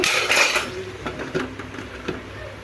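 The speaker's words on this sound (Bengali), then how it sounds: "এখন আমি আবার একটু ঢাকনা দিয়ে ঢেকে দেবো।" A lid goes onto a cooking pot of crab curry with a sharp metallic clatter, followed by a few softer clinks of metal cookware on the stove, close and clear with no talk.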